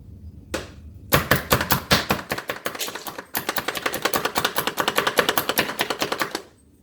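Rapid, steady chopping of hard-boiled eggs in a food chopper, a close, hard clatter of blade strikes in two long runs separated by a brief pause.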